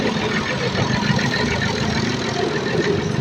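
A motorbike engine idles close by in a steady, even low rumble that holds throughout, with no other sounds rising above it.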